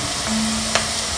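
Onions for a mutton curry sizzle in a pan, a short, even frying hiss with one brief clink, heard alone without voices.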